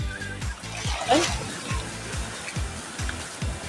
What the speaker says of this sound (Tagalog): Lakas yung alon mga kapag.